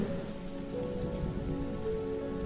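Steady rain falls on surfaces with dense, even patter of drops, continuous and close throughout, no voices.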